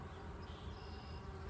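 Honeybees hum around an open beehive, a faint, steady drone that holds for the whole moment, with a soft higher whine running over it and no voices.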